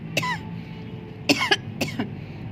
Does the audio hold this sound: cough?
yes